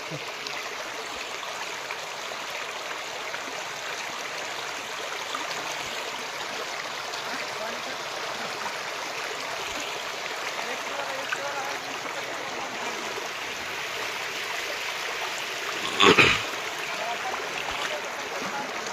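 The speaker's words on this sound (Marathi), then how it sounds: "तिथं बघ किती पाणी जोर धरते" Fast-flowing floodwater of the Wakdi river rushes steadily and loudly, broken once near the end by a brief knock.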